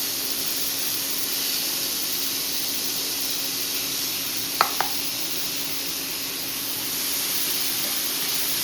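Onion and tomato frying in a pan, a steady close sizzle throughout with two brief clicks partway.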